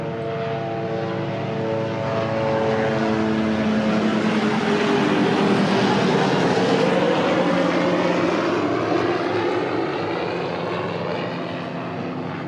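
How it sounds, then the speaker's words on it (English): The helicopter from the original Magnum PI flies past with a steady, loud rotor and engine roar that swells slightly midway and holds throughout, with no one talking. "So that's actually the helicopter from the original Magnum PI."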